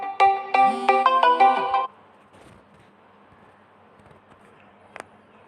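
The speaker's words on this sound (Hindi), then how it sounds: "यहाँ पर एक बार फोन आ रहा है" A phone ringtone plays a loud, close, bright electronic melody of rapid repeated notes for about two seconds, then cuts off, leaving faint room noise and a single small click.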